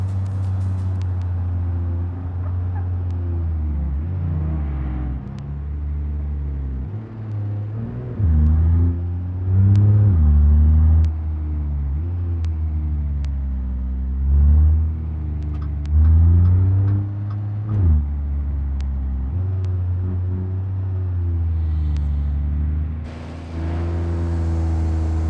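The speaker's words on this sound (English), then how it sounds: "But now we're getting stuck with the usual, the traffic here." Car engine droning steadily in heavy traffic on a street in Italy in BeamNG, with repeated swells of acceleration and revving over a constant low rumble, no talking.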